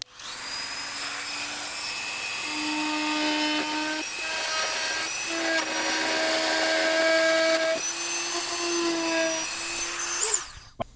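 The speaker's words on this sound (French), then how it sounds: "Donc je pense que je vais commencer la coupe au Dremel et finir au scalpel et à la ponce" A Dremel rotary tool cuts into the plastic shell of a Famicom console, a steady high whine with shifting pitch that grinds on continuously for several seconds, close and loud, ending in a brief squeal as it pulls away.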